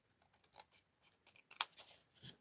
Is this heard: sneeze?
no